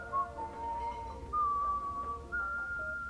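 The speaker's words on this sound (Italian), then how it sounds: "Fischietta il nostro amico." A character in the video game Far Cry 3 whistles a short, wandering tune at a poker table, the clear melodic notes rising and falling over a quiet low background, with no talk.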